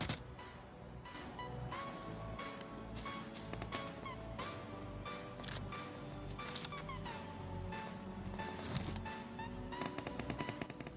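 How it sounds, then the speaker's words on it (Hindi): Rapid automatic gunfire in the PUBG video game on the Erangel map, repeated bursts of shots from near and far mixed with game sounds, continuing throughout without talk. "फायर की साउंड आ रही थी"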